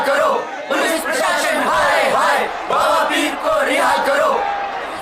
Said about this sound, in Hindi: ठीक उसी समय बांद्रा थाने के बाहर आधी रात को काले लबादे में 50 से भी ज्यादा लोग नारे लगा रहे थे